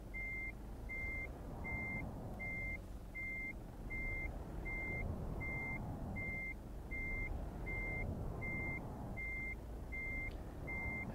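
Reversing beeps from a truck backing into a parking spot in Euro Truck Simulator 2 sound as a steady series of evenly spaced electronic tones, about a dozen in a row, over a continuous low engine rumble.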